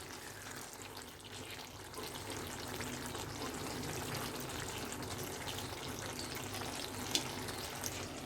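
Chickpea curry with chaat masala is stirred in a pan, a soft, continuous low sizzle and scraping texture at quiet level with a couple of light utensil knocks.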